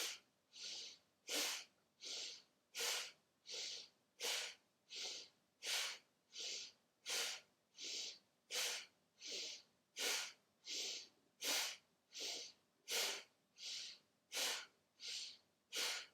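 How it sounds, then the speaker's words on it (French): Slow, steady breathing exercise: about seventeen even cycles of a breath drawn in and pushed out, each a soft airy rush close to the ear, repeating in a regular rhythm with brief pauses between and no talking. "On va d'abord expirer, vider. Et on va inspirer"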